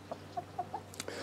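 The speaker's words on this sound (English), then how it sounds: "These are our six chickens." Isa Brown backyard chickens cluck softly in a rural village garden in the interior of Canada, a handful of short, evenly spaced clucks close by against quiet background hum.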